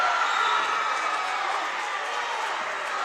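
A crowd cheering at a girls' basketball championship game between Northside and Cresset, a steady broad roar of many voices filling an indoor gym, fairly loud and continuous throughout.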